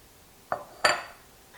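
A mixing bowl is set down and shifted on a kitchen counter, giving two short clinks, a light tap followed by a louder ringing knock, close by and alone.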